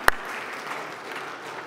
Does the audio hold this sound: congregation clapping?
yes